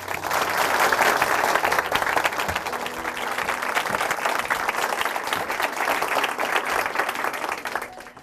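A church audience applauds loudly and steadily for about eight seconds after a testimony, a dense wash of many hands clapping at once before it tapers off at the end.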